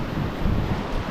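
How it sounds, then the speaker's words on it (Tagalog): Moderate wind at the seashore buffeting the microphone, a low rumbling gusty roar with some surf, fairly loud and close, no voices. "So all goods yung hangin ngayon,"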